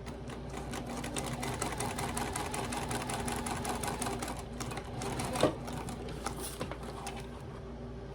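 A sewing machine stitches a small fabric wallet, a steady rapid mechanical chatter and hum running throughout at close range, with a brief clack partway through and no talk.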